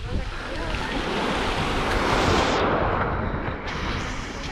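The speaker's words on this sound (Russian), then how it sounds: "Море потише." Sea surf breaking on a crowded Black Sea beach at Novy Svet in Crimea, a steady close wash of waves with wind buffeting the microphone.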